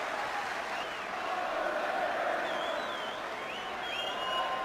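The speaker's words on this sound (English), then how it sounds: "And this huge crowd here in Madison Square Garden." Huge crowd at a Madison Square Garden wrestling event applauding and cheering, a sustained distant roar of clapping that swells slightly, with whistles on top.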